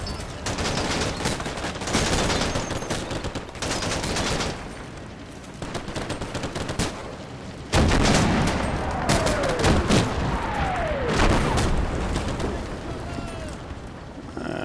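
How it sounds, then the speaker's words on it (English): Artillery spotting rounds landing near tanks in the Combat Mission: Battle for Normandy wargame during Operation Bluecoat, loud cracking impacts and bursts of gunfire, with descending whistles of incoming shells overhead. "spotting rounds getting a little bit close to the tanks"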